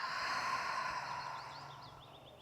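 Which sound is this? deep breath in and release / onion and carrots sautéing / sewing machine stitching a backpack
deep breath in and release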